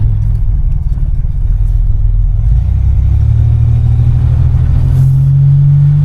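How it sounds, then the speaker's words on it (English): A 1987 Buick Grand National's turbocharged engine rumbles loud and close from inside the car while driving, the low drone rising in pitch as the turbo spools up toward the end, without talking. "You can hear that turbo spooling up."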